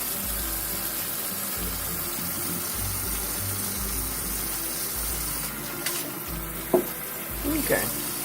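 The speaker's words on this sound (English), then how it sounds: "So now I'm just rinsing it off, making sure everything is cleared" Tap water runs steadily into a sink while raw chicken is rinsed, a constant rushing flow with a few brief splashes and handling knocks near the end.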